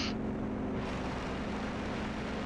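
A Yak-52 aircraft engine in the DCS World flight simulator roars in a constant, dense drone with a steady low hum beneath, loud and unbroken throughout.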